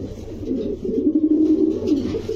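A pair of Black Copper Archangel pigeons coo close by, a low rolling throaty call running continuously with a few pulsing swells, alone with no talk.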